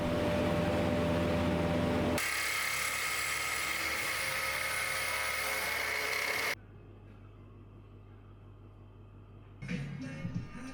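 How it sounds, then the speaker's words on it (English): A bandsaw and a mill cut away excess wood on a five-string headless bass guitar build, giving loud, steady machine whine with shifting tone and a short quieter stretch before cutting resumes. "The remaining excess wood is removed with the bandsaw and mill."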